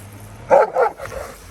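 A dog, a Karabash, barks twice in quick succession, close and fairly loud, then fades into quieter background rustling.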